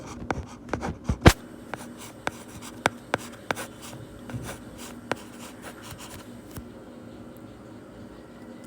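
A pen writes chemical names on paper with scratchy strokes and sharp taps, close and intermittent, busier at first and then sparser.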